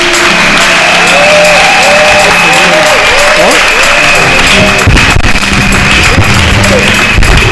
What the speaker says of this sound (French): Est-ce qu'on peut entendre les acclamations de ceux qui aiment le Seigneur?